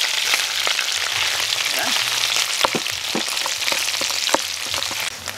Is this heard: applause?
no